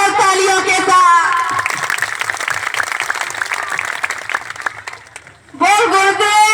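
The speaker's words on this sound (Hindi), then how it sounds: "इसलिए श्रद्धा से, भावना से, आत्मा से हम उनका स्वागत करते हैं जोरदार तालियों के साथ" A crowd breaks into sustained applause between stretches of a woman's amplified speech, fading as she resumes talking.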